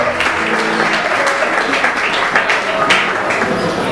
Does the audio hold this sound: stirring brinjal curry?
no